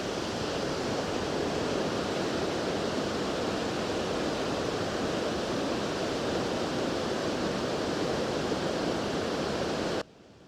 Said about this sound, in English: It was not dirt bikes, it was only the waterfall, and it is very impressive.